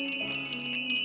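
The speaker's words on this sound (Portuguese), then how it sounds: "nós já podemos ouvir o som do sino" A small bell rings at eucharistic adoration, its bright sustained tone shimmering steadily throughout with repeated soft strikes and no voices.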